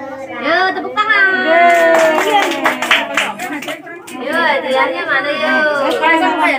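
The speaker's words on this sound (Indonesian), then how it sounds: "Yuk tepuk tangan." Children and guests clap together at a first birthday party, a burst of hand claps mixed with chatter and kids' voices, while an adult talks over it nearby.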